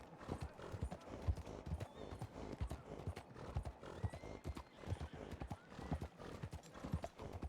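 Hooves of a carriage horse clip-clop in a quick, continuous rhythm on the streets of Saint Denis in a video game, fairly soft and steady, with occasional faint voices.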